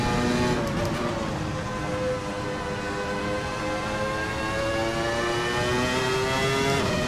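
Ferrari F310b Formula 1 car in a racing video game, its loud high-pitched engine droning steadily with rising and falling harmonic whine as it holds revs, close and alone without talk.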